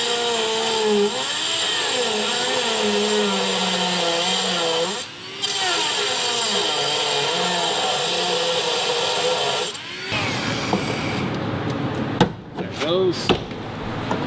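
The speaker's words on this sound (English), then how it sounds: "Let me grab a little Dremel here. Cut this last little piece." A small Dremel rotary tool whines at a high, steady pitch while cutting a last piece of metal on a 1965 GMC C10 pickup, the speed wavering briefly mid-cut, then stopping into quieter shop clatter.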